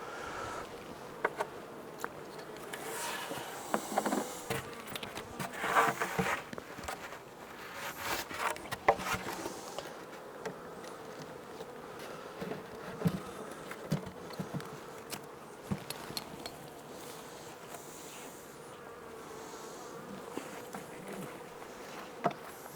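Honey bees buzz continuously around a hive after an August shook swarm, a dense steady drone with individual insects passing near the microphone and occasional knocks of wooden hive parts.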